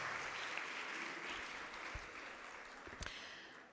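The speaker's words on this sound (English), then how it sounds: "Let's give a very big round of applause, everybody, for organizing this event" An audience at a motivational speaking event gives a round of applause, a faint, distant wash of clapping that slowly fades, with a few brief thumps near the end.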